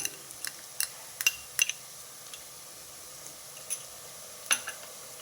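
Onions fry in a pan as ginger garlic paste goes in for a leafy-greens pulao, a low sizzle broken by scattered sharp clinks and scrapes of a spoon against the pot.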